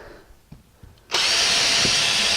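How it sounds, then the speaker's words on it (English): Quiet handling noises, then a power drill starts abruptly with a loud, steady high whine, close up, driving into a hardwood floor. "go down the other end, pull it tight, and drill it"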